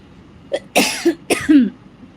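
A person coughs a few times in short, close bursts, with a throat-clearing quality between a couple of harsh hacks and no talk.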